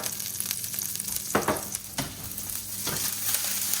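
Homemade farm-fresh butter sizzles and spatters in an overheated pan, a steady crackling fry with a few louder pops, heard close with no talking.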